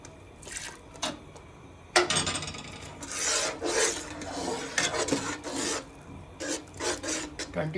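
A spoon scrapes and rubs around a cooking pot of thick swayaa made with milk, sugar, oil and vermicelli, in irregular rasping strokes, close but fairly soft.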